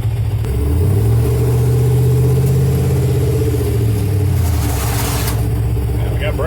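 A Japanese kei mini truck's small engine runs loudly up close on a test drive, rising in pitch as it accelerates, holding a strained drone, then easing back down.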